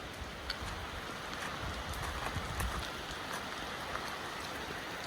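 Rain falls steadily over open fields and farmland at the end of the rainy season, a soft, even hiss of drops close by with faint scattered patters and no voices.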